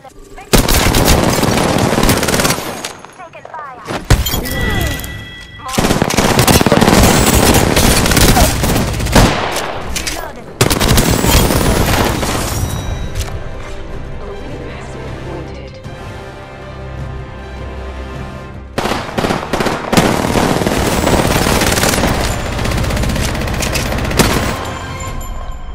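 Rapid automatic gunfire from the video game Apex Legends, loud and dense bursts with short pauses between volleys, continuing almost throughout with echoing booms and faint voice callouts mixed in.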